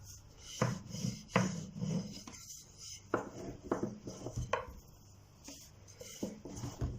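Lightly floured dough for pişi, an egg-sized piece, rolled out with a thin wooden rolling pin: soft rubbing and rasping strokes that come in uneven bursts with short pauses, close and quiet.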